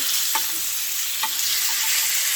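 Pork chops stir-frying in a pan, a loud, steady hissing sizzle with a couple of brief clicks as the meat is handled.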